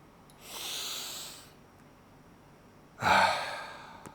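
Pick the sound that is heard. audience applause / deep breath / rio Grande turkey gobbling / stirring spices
deep breath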